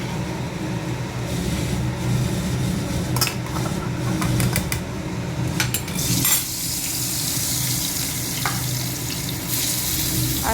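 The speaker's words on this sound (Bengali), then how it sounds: "আর এখানে মাছ ভাজা হচ্ছে, আর বেগুন ভাজা হবে।" Fish fries in a pan on a home stove, with a loud, continuous sizzle broken by scraping and clinking of a utensil against the pan, then settling into a steadier crackle.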